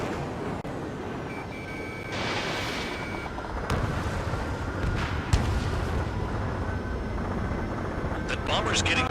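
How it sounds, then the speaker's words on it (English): Jet engine roar in an Ace Combat 7 air-combat mission as a bomber takes off, a broad sustained rumble with shifting whooshes and a few sharp bursts, with radio chatter over it. "A bomber has taken off."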